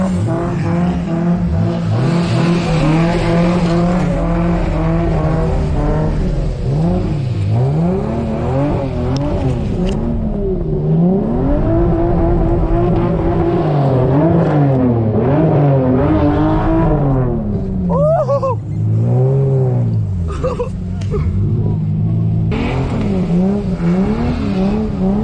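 A drifting car's engine revs and wails in long rising and falling sweeps, with tires squealing across the slides. It stays loud and close for the whole stretch, with no talk over it.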